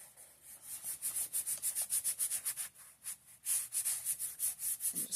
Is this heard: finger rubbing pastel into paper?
yes